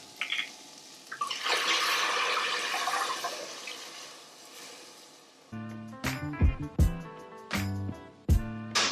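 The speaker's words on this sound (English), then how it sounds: "So I'm going to add a half a bottle of wine to this." White wine pours from a bottle onto sweating shallots and garlic in a pan, a sustained liquid gush up close, followed by several sharp knocks and clatters of cookware.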